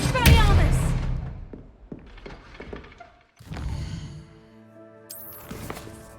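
The Expelliarmus spell is cast in Hogwarts Legacy: a thudding magical impact, then a brief pause and a second swelling burst with ringing, tonal shimmer. A voice is present in the mix.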